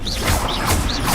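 Confringo blasting spell going off in the Hogwarts Legacy video game: a dense, loud burst of crackling impacts with whooshing sweeps, repeating in quick succession over a heavy low rumble.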